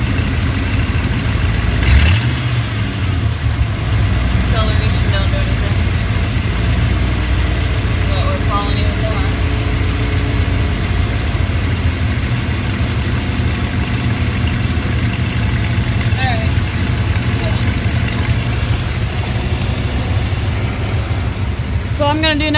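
A Ford Bronco's 5.8L engine idles steadily and loudly for the whole stretch with a constant low rumble, during fuel pressure testing, with a person speaking briefly over it.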